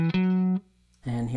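A single sustained clean electric guitar note played on the neck pickup rings out and fades, then a new note is struck near the end, bright and undistorted.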